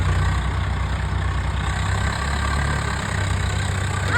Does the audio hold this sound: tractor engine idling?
yes